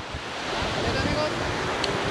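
Wind gusts across a beach in Cancun, buffeting the microphone with a loud, steady roar that mixes with the wash of surf.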